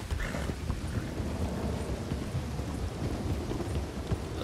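Heavy rain pours steadily during bad weather in the video game Red Dead Redemption 2, with a dense, constant downpour and soft thuds and hoofbeat-like knocks underneath.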